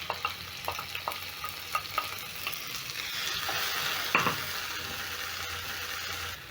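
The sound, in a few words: stirring diced tomatoes into browning onions in a pan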